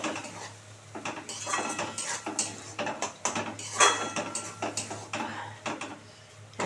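A spatula scraping and clattering against a metal pan while dry lote fish curry is stirred so it does not stick, a steady run of close scrapes and light clinks with no talking.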